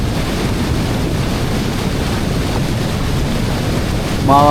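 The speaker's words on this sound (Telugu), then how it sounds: "ఈ వాటర్ సౌండ్కి అసలు గుండె అయిపోయేటట్టుంది" A loud, continuous roar of a rushing river, heavy and low, with a brief voice at the very end.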